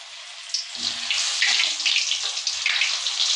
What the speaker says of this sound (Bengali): তাই ফুলকপিটা ভালো করে ভেজে নিচ্ছি